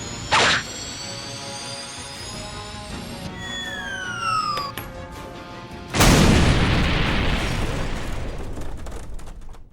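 A grenade explodes in the Sonic and the Autobots cartoon, with thuds and whooshing sweeps first and then a sudden loud, close blast whose rumbling roar slowly fades.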